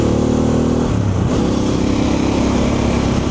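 Harley Davidson Pan America motorcycle engine droning steadily on an open road, pitch dipping then climbing as it accelerates past a ute, with strong wind rush throughout.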